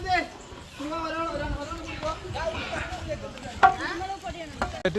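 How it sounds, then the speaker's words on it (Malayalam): Chicken masala being stirred in a pan with pepper powder, a steady sizzle under scraping strokes, close and moderately loud, with a person talking over it. "കുരുമുളക് പൊടിയും നന്നായി ഇളക്കി വെക്കുക"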